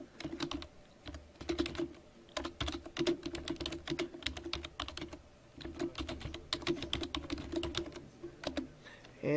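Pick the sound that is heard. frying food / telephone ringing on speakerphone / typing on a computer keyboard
typing on a computer keyboard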